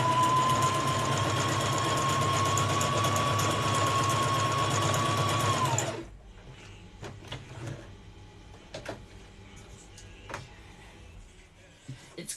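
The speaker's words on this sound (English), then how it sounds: "I need to finish sewing this" A sewing machine stitches with bluey green thread in one steady, close, whirring run for about six seconds, then stops, leaving quiet room sounds and scattered light clicks and handling noises.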